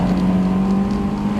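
A Honda S2000 engine revving hard in second gear toward redline, a steady high-pitched drone held loud and close for the whole moment, with no voices.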